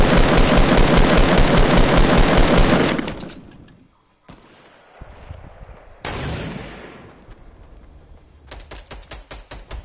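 Rapid, loud automatic gunfire in a video game rattles continuously for about three seconds, then drops to quieter shots. A second dense burst follows, and the clip ends on a steady run of evenly spaced single shots.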